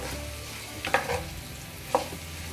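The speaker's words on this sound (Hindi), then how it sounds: "मसालों को मैंने आलू के साथ अच्छे से मिक्स कर दिया है" Potatoes mixed with spices being stirred in a pan over low heat, giving soft scraping and a couple of louder spoon strokes over a low sizzle, with no voices.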